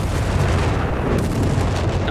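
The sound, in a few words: artillery strikes in video game Company of Heroes 3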